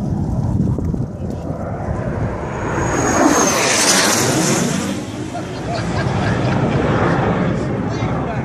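A low-flying Cessna light aircraft at the Midville fly-by passes overhead, its engine drone swelling to a loud peak and fading with a Doppler sweep, as voices talk throughout.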